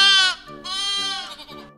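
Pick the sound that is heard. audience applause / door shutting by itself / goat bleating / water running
goat bleating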